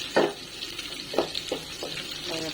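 Onion and garlic fry in a pan, a soft steady sizzle broken by several close scraping strokes as a spatula stirs them, with no voices.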